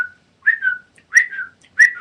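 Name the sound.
voice imitating a phone notification whistle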